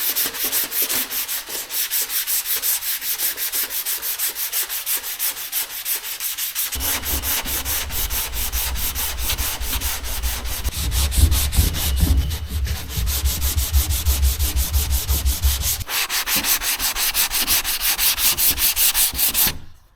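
Steady back-and-forth rasp of a hand sanding block on primer over car body work, close and continuous for the whole stretch, with a deeper rumble joining in the middle section.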